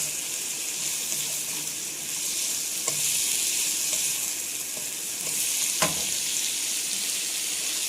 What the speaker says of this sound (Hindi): सब्जियों को आपने आंच थोड़ी सी तेज़ रखनी है, इनको हल्का सा हम सौते करेंगे।